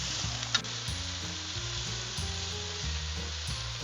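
Thin shaved ribeye sizzles steadily on a hot Blackstone flat-top griddle, a constant hiss with no talking and a few clinks and scrapes of a spatula working across the surface.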